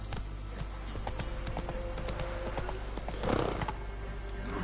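Roach, the horse in The Witcher 3 video game, gallops with a rapid, steady clip-clop of hoofbeats over a low continuous background, swelling briefly near the end.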